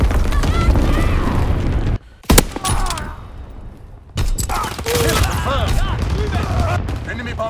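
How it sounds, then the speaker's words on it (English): Anti-aircraft gunfire in the World War II shooter Call of Duty: WWII, a dense clatter of flak and booms with sharp blasts, heard under game voice announcements and other battlefield noise. "Enemy anti-aircraft incoming."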